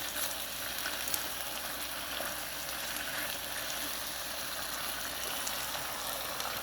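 Pepper steak frying in a pan, with an even, continuous sizzle that holds at moderate volume throughout, close by and with no voices.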